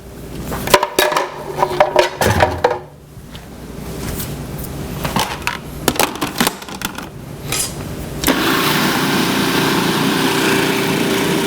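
A Vitamix blender rattles and knocks through several short bursts, then settles into a loud, steady whirring roar for the final few seconds.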